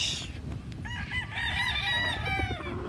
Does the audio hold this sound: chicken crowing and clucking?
yes